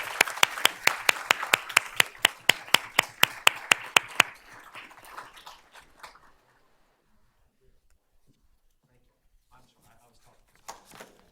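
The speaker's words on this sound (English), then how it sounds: "Let's give these ladies a round of applause." At a board of trustees meeting, an audience claps for a winning robot-game competition team: brisk, evenly paced claps ring out for about four seconds, then thin out and die away into quiet, with a few voices murmuring afterward.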